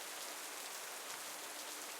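Rain falling steadily in a medieval fantasy role-play game, a soft even hiss of drops on surfaces with no voices, continuous and faint throughout.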